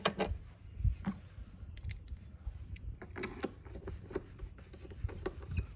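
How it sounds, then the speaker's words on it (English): Screws being put back into a Champion 4500 generator, giving faint, close ticking and small rattling clicks in a quick, irregular patter throughout. "Put the screws back in."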